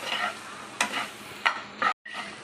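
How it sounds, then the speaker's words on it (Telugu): Taro root (arbi) pieces frying in oil, heard as a steady close sizzle broken by several scraping stirs of a spoon through the pan, with a short silent gap near the end. "ఇలా ఫ్రై చేసుకోవాలండి."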